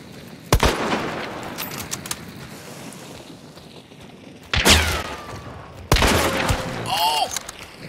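Gunfire in the Hunt: Showdown game, with sharp shots at intervals and a couple of louder bursts with ringing tails, heard alone without talking.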